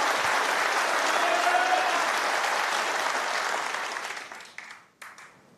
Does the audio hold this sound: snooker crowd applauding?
yes